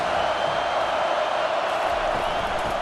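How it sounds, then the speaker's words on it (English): Steady roar of a stadium crowd at a College Football 25 game, Alabama versus Notre Dame, a loud continuous wash of cheering with commentary voices mixed in. "This crowd trying to make life miserable for this offense."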